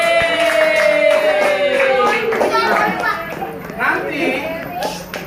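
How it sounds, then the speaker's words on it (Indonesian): A classroom of children claps for a classmate, a loose patter of applause under a teacher's voice and children's chatter, lasting a few seconds. "Ya beri tepuk tangan buat temennya."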